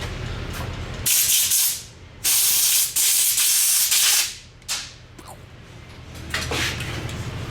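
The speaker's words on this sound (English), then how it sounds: "Handy dandy brake clean." Brake cleaner sprays from an aerosol can onto a fouled spark plug in a motorcycle workshop, in several loud, close hissing bursts of varying length with short pauses between them.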